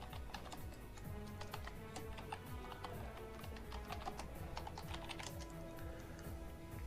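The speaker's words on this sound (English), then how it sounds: "I need to type this" Steady, fast typing on a computer keyboard, with dense overlapping key clicks running continuously at close range, fairly quiet, with no talking.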